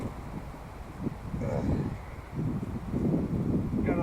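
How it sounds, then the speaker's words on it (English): Wind blowing outdoors, a low rumbling buffet against the microphone that swells and eases over a few seconds, with faint rustling and no talk. "Got a little bit of wind today"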